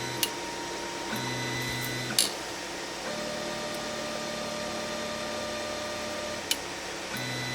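Geeetech A20M dual-extruder 3D printer running its auto-homing routine, with steady stepper-motor whine and tonal hums that shift in pitch as the axes move, broken by a few sharp clicks as the endstops trigger.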